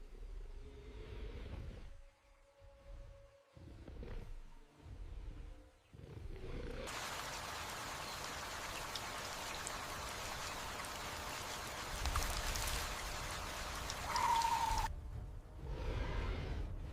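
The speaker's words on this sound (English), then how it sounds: "With the rain falling lightly, the forest hums with the sounds of insects and distant calls" Light rain falls in a humid forest, a soft, even hiss of drops that swells in after a quieter, patchy stretch and holds steady, with faint insect-like buzzing and low rumble beneath.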